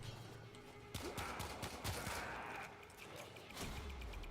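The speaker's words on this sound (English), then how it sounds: "It's just the grenades." Grenades going off in the video game Warframe amid a dense burst of rapid gunfire, sharp cracks and booms piling up over about three seconds against a constant noisy game background.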